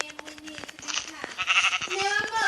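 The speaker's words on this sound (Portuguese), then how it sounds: "uma ovelha" Blocky sheep in the Minecraft video game let out a few short bleats amid busy game sound effects and clicks, with a person talking over them throughout.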